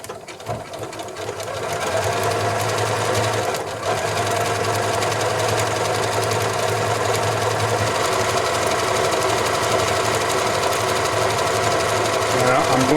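A Janome Memory Craft 6500P sewing machine stitching, a loud steady mechanical whirring hum with a rapid rhythmic needle chatter that runs continuously after a brief start, close by.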